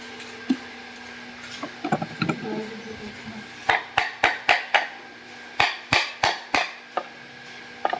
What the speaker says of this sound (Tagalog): pupukpukin ng dahan-dahan. bearing yun ah.